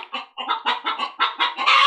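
Hens clucking near a rural coop with nesting boxes where eggs were just collected, a steady run of short rhythmic clucks building to a louder, busier burst at the end, with no talking.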